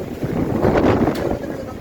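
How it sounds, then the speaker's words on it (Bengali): Strong wind from Cyclone Remal roars steadily across the microphone at a Meghna River ghat, a dense, buffeting rumble with gusts rising and falling. "এখানে খুবই বাতাস, খুবই তুফান।"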